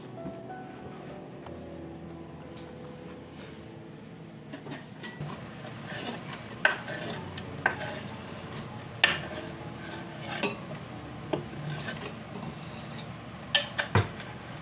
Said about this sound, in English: I'm just going to bring them over to the stove and throw everything in the pot